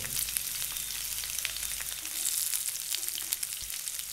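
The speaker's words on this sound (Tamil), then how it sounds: "எண்ணெய் சூடானதும் பட்டை, ஏலக்காய், கிராம்பு, சீரகம் இதெல்லாம் போட்டு சீரகம் வறுந்த உடனே வெங்காயத்தை போட்டு" Onions frying in hot oil with cinnamon, cardamom, cloves and cumin, a dense steady crackling sizzle heard up close throughout, with no voices.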